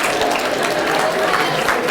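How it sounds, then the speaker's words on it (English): Loud close applause from a school audience, a continuous burst of many hands clapping with some crowd noise mixed in. "round of applause for doctor"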